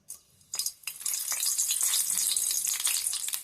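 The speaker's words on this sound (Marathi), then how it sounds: "मग आपण ह्याच्यात ना तमालपत्र घालून घेऊया." A bay leaf dropped into hot oil in a Malvani village kitchen, with a couple of soft knocks before a loud, steady sizzle bursts up about a second in and crackles on without pause.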